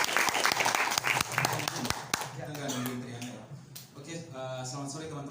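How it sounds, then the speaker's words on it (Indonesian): A crowd claps and applauds at a talk on environmental democracy and young politicians, with dense clapping that fades after a couple of seconds as a voice begins speaking over the tail of it. "Kita beri tepuk tangan."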